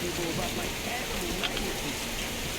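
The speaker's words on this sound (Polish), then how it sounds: "O, deszcz. Cudownie." Steady rain in the video game Metro Exodus, a dense even hiss of falling drops that runs without a break and stays at a moderate level.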